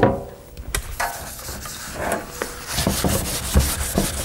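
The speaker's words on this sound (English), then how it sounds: "I'm just going to keep wiping this down with the naphtha" Cloth wiping adhesive off a metal arcade game cabinet with naphtha, close-up irregular rubbing and scrubbing strokes with soft scuffs and small knocks, no talking.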